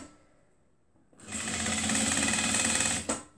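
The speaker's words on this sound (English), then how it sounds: "Back stitch whenever you're starting." A sewing machine back stitches stretchy, slightly elastic scarf fabric. After a quiet start, it gives one loud, close whirring burst of rapid needle strokes for about two seconds, then stops abruptly.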